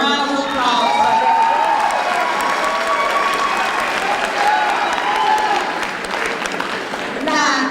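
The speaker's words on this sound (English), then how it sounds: "Let's give them a round of applause for their" Sustained applause from a commencement ceremony audience, dense and steady for the whole stretch with a slight dip near the end, with a voice faintly present underneath.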